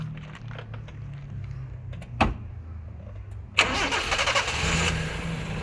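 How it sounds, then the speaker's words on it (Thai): A used car's engine cranks and catches with a sharp burst after a quiet stretch and a single click, then settles into a steady, smooth idle, close and alone with no talking. "ให้พี่โอนสตาร์เครื่องยนต์ให้ดูนะครับ"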